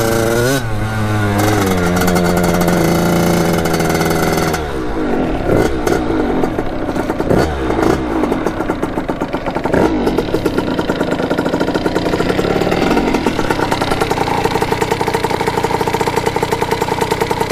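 A Kawasaki KX80 big bore two-stroke dirt bike engine idles loud and close while warming up, first revving and falling, then settling into a rattly, uneven idle with small blips, no voices over it.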